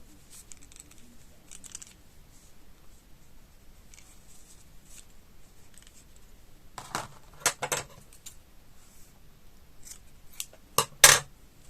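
Scissors snip the yarn end of a crochet I-cord keychain in a few short, crisp cuts near the end, after a stretch of quiet rustling and handling of the yarn.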